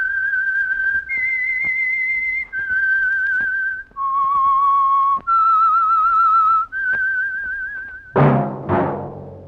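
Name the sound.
The Whistler radio show theme whistle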